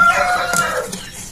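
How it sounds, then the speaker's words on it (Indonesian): Pakoy rooster crossed with mangon chicken, a single crow, loud and near, rising then trailing off. "Ini termasuk ayam pakoi teman-teman, masih kental pakoinya, tapi udah disilangin sama mangon, ayam mangon."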